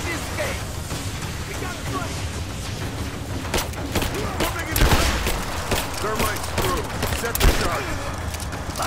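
Gunfire in the video game Rise of the Tomb Raider, a dense fusillade of shots and booms over a rumbling backdrop, with a couple of louder bursts near the middle and end.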